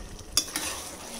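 A spoon stirs chicken stew with fresh coriander in a pan, giving a short scraping stir and a couple of soft clinks over a light sizzle, close and brief.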